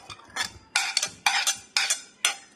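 Cut fruits being stirred together in a box for a fruit salad: five close, scraping bursts in an uneven rhythm, with no talking.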